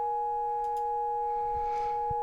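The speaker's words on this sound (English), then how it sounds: "Both of them are sine waves." A steady, pure synthesizer sine wave tone holds unchanged throughout, with faint background clicks and rustles underneath.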